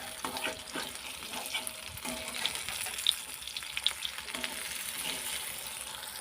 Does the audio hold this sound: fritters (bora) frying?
yes